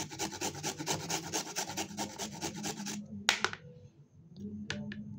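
Carrots are rubbed against a hand grater in quick, even rasping strokes for about three seconds, then a few scattered scrapes and taps follow in a quieter pause.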